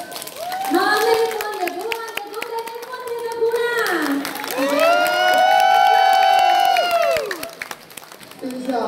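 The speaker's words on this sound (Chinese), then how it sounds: "我们为自己再拉一次掌声，好吗？" A crowd claps and cheers at a Miao (Hmong) gathering at Puzhehei. The applause sits beneath a loud, drawn-out voice, with the cheering swelling toward the middle and then fading.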